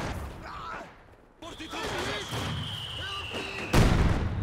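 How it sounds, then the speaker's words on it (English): Heavy mortars fire in a Company of Heroes 2 battle, giving distant booms and scattered gunfire under a commentator talking continuously, with a louder impact near the end. "Heavy mortars not hitting anything."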